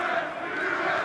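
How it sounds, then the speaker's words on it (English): A rugby crowd at Cyncoed cheers loudly after a try in a Cardiff Met versus Loughborough match, a dense, steady roar of many voices heard briefly. "The crowds have gone absolutely berserk here"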